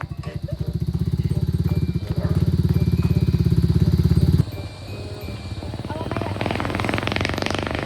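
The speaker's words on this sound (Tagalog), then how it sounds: "Oh, may motor." A motorcycle engine idles loudly nearby with a fast, throbbing putter, then cuts to a lower rumble as people talk in the background.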